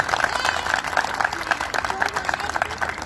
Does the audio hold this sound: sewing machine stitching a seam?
no